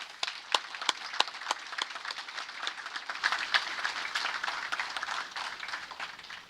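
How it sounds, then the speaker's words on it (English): Audience applause at a Hawaii Police Department recruit graduation ceremony, sharp claps building into steady, dense clapping from a large crowd in a hall, sustained for several seconds. "I want a hand of applause."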